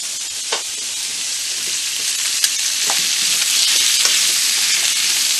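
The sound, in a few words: pork sizzling in a pan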